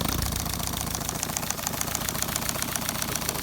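A small LBSC Tich model steam locomotive runs on compressed air at about 25 psi, giving a rapid, even chuffing beat with a light mechanical knock, close and steady throughout.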